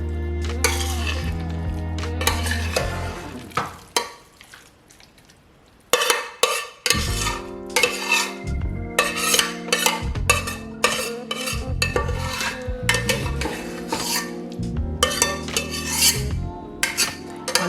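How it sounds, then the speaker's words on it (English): A metal spoon scrapes chicken pot pie filling into a casserole dish, producing repeated close, harsh scraping and clanking strokes with a short pause midway, and no speech. "I'm sorry if that scraping is bothering you."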